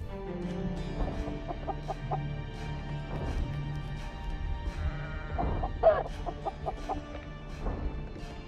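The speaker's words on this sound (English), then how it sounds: "This chicken wanders aimlessly upon the sod, as chickens are wont to do." A chicken wandering on grass in the PC adventure game Argonus and the Gods of Stone clucks in short repeated bursts, fairly close and clear, over a low ambient hum.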